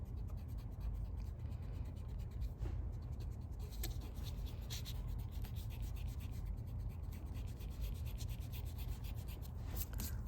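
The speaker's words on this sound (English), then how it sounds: "And then we can erase the excess." A pencil eraser rubs back and forth on paper in a continuous close scrubbing with quick rhythmic strokes, steady throughout and with no talking.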